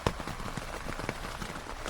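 Rain pattering steadily on a waterproof camping tent on a mountain in Batangas, a dense patter of close, irregular drops with a few sharper taps, heard alone with no talking.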